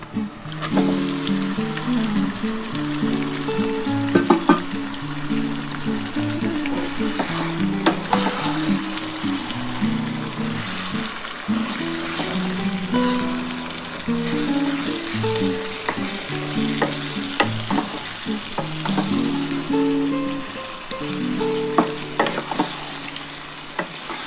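Chicken added to browned onions with a pinch of sugar frying in a pan, making a continuous close sizzle broken by frequent rhythmic scrapes and knocks of a stirring spoon throughout.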